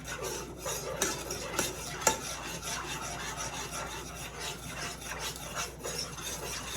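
Minced garlic for a savory mojo sauce is mixed in a bowl, giving a close, steady rasping and rubbing with a few sharper knocks of the utensil.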